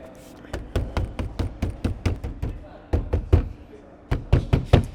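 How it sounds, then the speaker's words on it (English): Knuckles knock repeatedly on a Porsche door panel while checking for rattles, sharp close raps coming in quick bursts of several taps with short pauses between groups. "let's give it a knock and see what else we can find"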